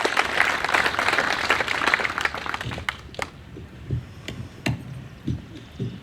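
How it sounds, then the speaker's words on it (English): An audience applauds at a Republican state district debate, a dense burst of clapping that thins after about three seconds into sparse, scattered claps. "Round of applause for Andrew."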